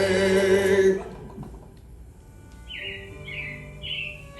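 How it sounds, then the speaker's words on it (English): Robins in a Magic Kingdom attraction at Walt Disney World chirp in three short repeated calls after a fading song, clear against the quiet ride audio. "It looks like the Robins are getting ready to celebrate Valentine's Day today."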